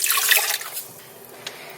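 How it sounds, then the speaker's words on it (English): Water poured into a pina colada mix for a keto cocktail, a short close splashing burst that quickly fades to a faint trickle. "We're gonna add 4 ounces of water."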